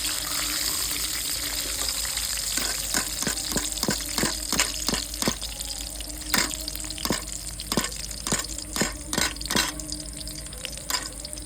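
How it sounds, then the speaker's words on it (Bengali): Potato pieces fry in oil, giving a continuous bubbling sizzle with repeated sharp clicks and scrapes as they are stirred and turned, close and fairly loud with no talk. "আলু আমার দেখুন লাল করে ভাজা হয়ে গেছে"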